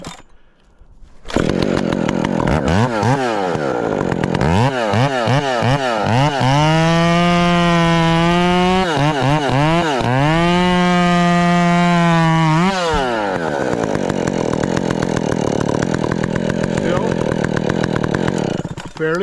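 A Husqvarna 372XP chainsaw cuts firewood up close, loud throughout, its engine revving up and bogging down repeatedly as the chain bites into the wood, then settling into a steady high whine.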